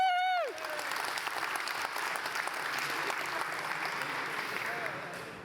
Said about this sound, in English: I think we need to applaud ourselves for fixing the Y2K bug.